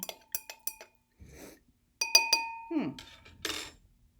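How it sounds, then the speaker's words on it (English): Water tinted with red food coloring is stirred in a glass, making a run of bright ringing clinks from the utensil against the glass, then a pause and more clinking and swishing, close up. "All right, stir that up a little bit."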